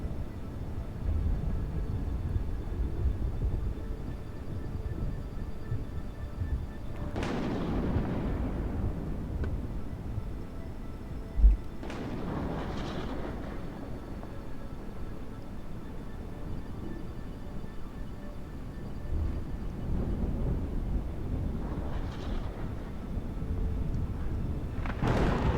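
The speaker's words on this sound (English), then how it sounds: "It's getting pretty loud and pretty frequent now, the thunder." Thunder on the planet Jool in Kerbal Space Program, with several distant rolling cracks spaced through a steady low roar of wind and atmospheric flight.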